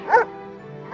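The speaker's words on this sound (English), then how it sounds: "the dog barks at the ugly duckling." Two loud, close barks from a dog in a children's storybook tale, one near the start and another right at the end, with a short quiet gap between them.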